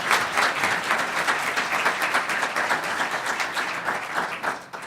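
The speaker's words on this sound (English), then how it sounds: "applause for the work they've done." A round of applause for a panel of judges at a law school evidence competition: dense, steady clapping from an audience filling the room for about five seconds, tapering at the end.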